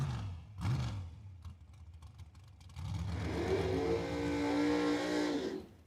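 Drag race cars launch down the dragstrip at Cordova Dragway: a brief engine burst and crackle first, then a loud, rising engine roar building and fading away over several seconds.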